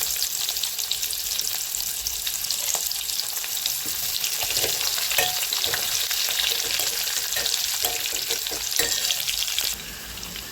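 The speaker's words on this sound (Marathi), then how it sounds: "कांदा छान तेलामध्ये परतून झालेला आहे." Sliced onion with cardamom and cinnamon sizzles and fries in hot oil in a pan, a steady close crackling hiss with occasional stirring scrapes.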